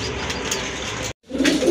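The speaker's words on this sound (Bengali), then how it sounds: "এই যে দেখেন অসাধারণ এক জোড়া কবুতর, কোয়ালিটিফুল কবুতর" A pair of quality pigeons coo steadily amid a noisy, busy background, with a brief cut to silence before a louder, closer cooing resumes.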